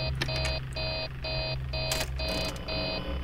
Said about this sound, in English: Now the alarm goes off.